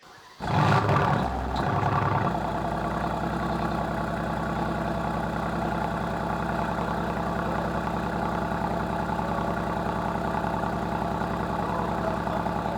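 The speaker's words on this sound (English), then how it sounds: "that's why I can hear the car burbling hectically behind us" A Mercedes-AMG GT R in race mode starts up with a sharp roar, then settles into a loud, steady, close burbling idle that runs uninterrupted with no voices.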